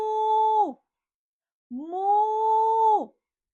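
A voice imitates a cow mooing, two drawn-out moos with a pause between them, close and clear, with no other sound behind them.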